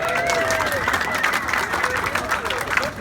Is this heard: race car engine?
no